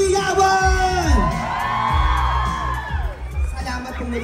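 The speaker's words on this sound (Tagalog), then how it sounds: "Isang malakas na hiyawan!" A crowd at a promotional event cheers loudly for a celebrity, with whoops, yells and high shouts rising and falling over a dense roar of voices, close and energetic throughout.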